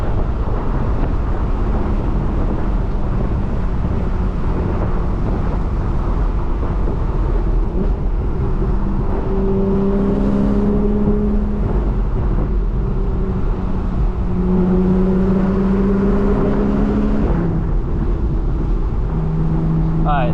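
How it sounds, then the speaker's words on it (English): A 2013 Porsche 911 Carrera S Cabriolet with a 385-horsepower engine, accelerating with a loud, steady low drone that rises in pitch through the gears and is heard mostly through heavy wind rush, without speech. "Engine really pushes strong"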